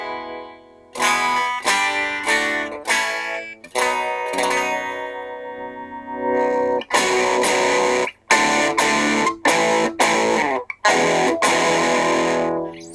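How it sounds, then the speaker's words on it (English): A Lunchbox guitar amplifier pushed into distortion as an electric guitar plays bursts of gritty strummed chords with short pauses between them, loud and close. "a decent amount of distortion"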